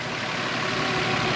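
A 2013 Nissan Xterra Pro4X with a six-speed manual idles steadily up close, a continuous even engine hum with no other sounds.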